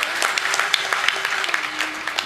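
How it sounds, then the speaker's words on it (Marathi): A crowd at a devotional kirtan gathering claps loudly in dense, sustained applause, with a few sharper claps standing out from the steady wash. "जोरदार टाळ्या होत्या"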